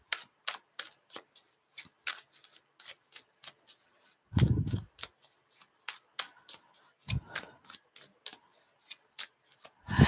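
Tarot cards being shuffled by hand, making a steady run of crisp, close clicks and flicks with a few heavier soft thumps as the deck is squared, with no talking.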